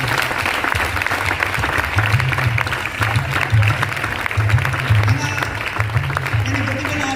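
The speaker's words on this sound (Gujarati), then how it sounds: "એના માટે જોરદાર તાળી" A crowd claps loudly and continuously, a dense sustained round of applause with faint voices underneath.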